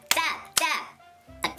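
Two short sharp hand claps close by, a third clap follows after a brief pause.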